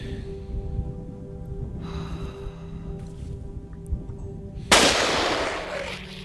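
Loud, noisy gunshots from a firearm in Cataclysm: Dark Days Ahead, a few sharp reports over a low steady hum, ending in one big broadband blast that trails off.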